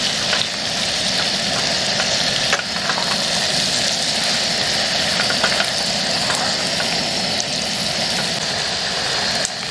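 Mutton curry frying in fat in a pan outdoors in a mango orchard during the rainy season, a loud, dense, continuous sizzle with crackling close up, no talk.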